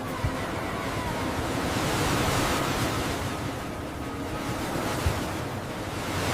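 Ocean surf rolls and washes steadily in a cartoon surfing scene on a candy beach, a broad, continuous roar of breaking waves with wind, close and fairly loud, with no voices.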